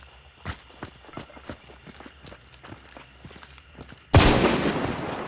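Rapid soft footsteps patter in a video game Shooting Range map during a sniper 1v1, ending in one loud, sharp sniper rifle shot that rings out and decays.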